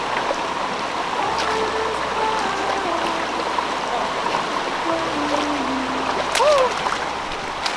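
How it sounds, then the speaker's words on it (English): Greeter Falls waterfall in South Cumberland, Tennessee, heard as a steady, close broadband rush of falling water throughout, with faint tonal chirps and brief splashy sounds layered over it. "because the waterfall literally is like right here"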